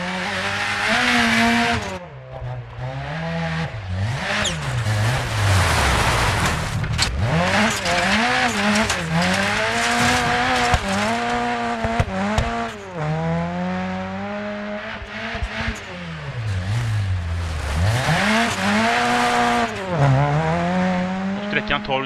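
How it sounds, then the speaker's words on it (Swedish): A Ford RS 500 rally car racing a Wales Rally stage in a 1980s-era video game, its engine loud and close, revving up and down through repeated gear shifts with occasional tire squeal, continuous throughout. "Och jag kör med en Ford RS 500"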